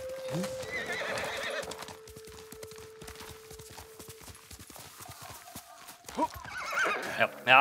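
A horse in the video game Ghost of Tsushima Director's Cut on PC trots with a steady rhythm of hooves and lets out a whinny near the start. A voice talks briefly near the end.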